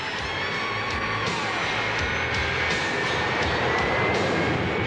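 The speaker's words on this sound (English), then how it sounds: "flight deck directors in yellow shirts guided the jets with their screaming engines onto the catapult tracks" Jet engines roar steadily and loudly on an aircraft carrier flight deck, a continuous high whine and rush filling the whole stretch with no talk.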